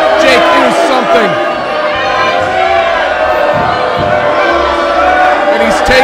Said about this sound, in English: he's taken in the boos and the jeers from this crowd